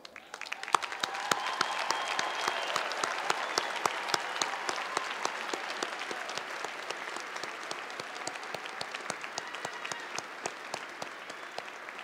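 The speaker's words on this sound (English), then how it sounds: "Will all of our graduates please stand for a round of applause?" Applause for graduates at a university winter commencement ceremony: a large crowd claps continuously in a big hall, a dense, even patter of many hands that holds steady throughout with no speech.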